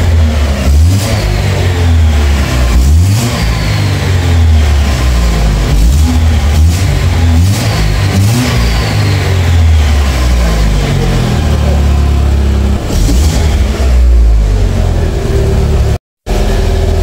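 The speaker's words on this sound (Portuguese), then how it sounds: "pode acelerar o carro. Pode pisar." A car in a home garage revs hard and repeatedly, loud close engine bursts rising and falling in a steady rhythm with brief idle dips between, and a short dropout near the end.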